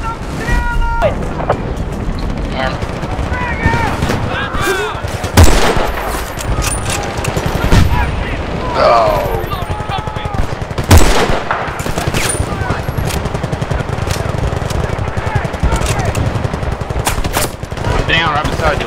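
Battlefield Bad Company 2 beta combat, with sustained loud bursts of automatic gunfire and occasional heavier booms throughout, and players talking over the shooting.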